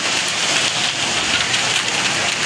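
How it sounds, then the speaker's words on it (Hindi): Heavy rain in Hyderabad pours down steadily, a dense, continuous hiss of drops hitting surfaces, loud and close throughout with no voices. "बहुत तेज़ बारिश हो रही है हैदराबाद के अंदर"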